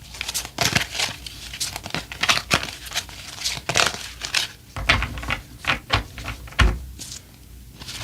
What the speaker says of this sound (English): So I'm going to shuffle some more cards and see if you will be famous.